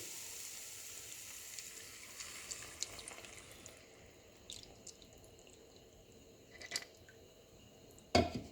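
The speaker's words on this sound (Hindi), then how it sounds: "अब मैं इसमें 2 कप मिल्क डाल दूंगी।" Two cups of milk pour into a hot pan of lightly cooked garlic for a chicken fettuccine Alfredo sauce, a steady close sizzle and liquid rush with a sharp clatter near the end, no voices.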